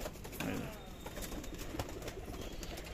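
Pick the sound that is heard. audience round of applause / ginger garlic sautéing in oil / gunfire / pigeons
pigeons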